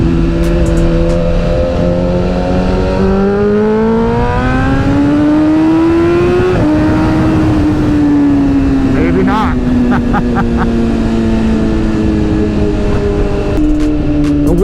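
Motorcycle exhaust droning loudly while riding, the engine note rising and falling as it revs up through gears and settles, continuous and close with wind rush, while a rider talks over it.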